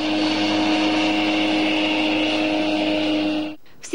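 Racing speedboat motors roar loudly and steadily at a water-cutter speedboat competition, a sustained engine drone with a strong tonal whine that cuts off abruptly near the end.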